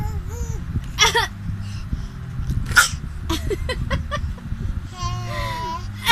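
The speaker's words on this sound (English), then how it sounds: "Oh, you know how to fake your cough," A baby fakes a cough in a few short, sharp bursts scattered across a noisy indoor room, with an adult's voice and small babbling sounds around them.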